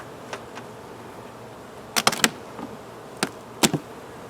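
Honey bees around a hive zip past in short, close buzzing bursts against a quiet outdoor background, a few fainter passes in between.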